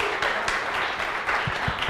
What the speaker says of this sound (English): And a big applause for the winners here